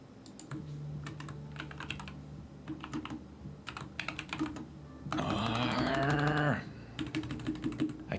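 Typing on a split computer keyboard at a desk, short bursts of rapid key clicks separated by pauses, with a louder stretch of busier tapping partway through, close to the microphone and without speech.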